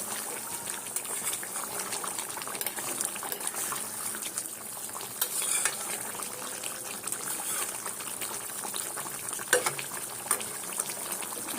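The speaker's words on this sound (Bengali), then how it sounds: "এইভাবে নাড়া দিয়ে দেবো" Curd and fennel chicken curry bubbling in a covered pan, a steady close boiling simmer with occasional soft scrapes and clinks of stirring, no voices.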